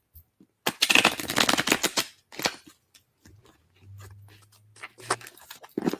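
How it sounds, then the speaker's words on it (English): Tarot cards riffled and shuffled by hand in a bursty, crisp run of fluttering snaps up close, then a softer pause with a low hum and a few more card flicks at the end. "I'm going to go ahead and shuffle this one for you, Chris,"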